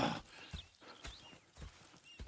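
Horse hooves clip-clop at a walk in Red Dead Redemption 2, with soft snorts; the steps are faint and steady, with a few gentle thuds spaced about half a second apart.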